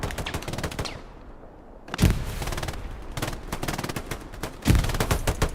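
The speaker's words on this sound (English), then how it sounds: "You hear that MG going" A machine gun fires in the World War II shooter Hell Let Loose on the Omaha map, long rapid bursts of loud automatic fire with a short pause, heavy booming impacts, and more sustained firing resuming.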